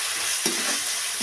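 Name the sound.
ginger garlic paste frying with onions in a pan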